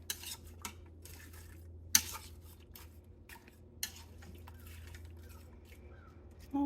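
Soft metallic scraping and clinking of a utensil stirring food in a pot, with a few sharper taps against the rim, faint against a quiet kitchen background.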